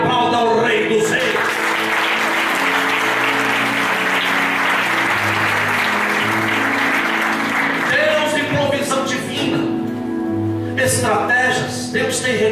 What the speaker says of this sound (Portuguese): se você crê, aplauda o Rei dos Reis